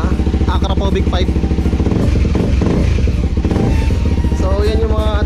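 A motorcycle fitted with an Akrapovic exhaust pipe is revved up close, a loud, raspy engine note rising and falling in quick repeated blips over a rough, throbbing idle.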